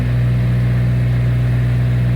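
Hyundai Sonata engine held near 2000 RPM, giving a steady low hum with a strong, constant drone and mechanical vibration, close and continuous with no talk.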